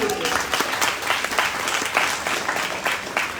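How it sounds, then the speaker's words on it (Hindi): A crowd at a wellness company's mega show gives a loud round of applause for the team, dense overlapping claps steady across the whole stretch. "मैं चाहता हूँ इस प्यारी सी टीम के लिए भी एक जोरदार ताली"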